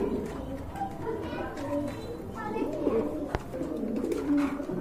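Soft cooing of a breeding pair of pigeons, the female ready to lay, runs through the clip beneath steady talking voices, with a brief sharp knock partway through.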